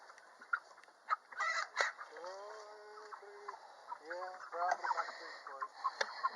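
Cornish cross broiler chickens about six weeks old cluck and squawk close by in a bursty, uneven chorus, with short rising calls and a few sharper cries under a faint steady background.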